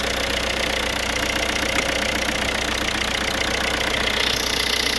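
A car engine idling after an oil change, new oil, air and oil filters and a rebuilt turbo, a steady even hum with a fine rhythmic tick, close and constant throughout with no voices.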